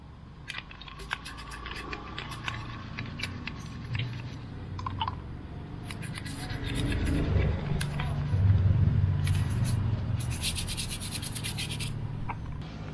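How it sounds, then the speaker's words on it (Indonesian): A dirty brake caliper scrubbed with a toothbrush and soapy water: rapid, rhythmic bristle rubbing close up, growing louder and denser midway, with light clicks and taps between strokes. "Lumayan kotor nih kalipernya, jadi aku bersihin pakai sikat gigi sama air sabun aja"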